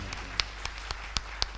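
Scattered, sparse hand claps from an audience at a mushaira, about six distinct sharp claps in an uneven rhythm, fairly faint and without voices.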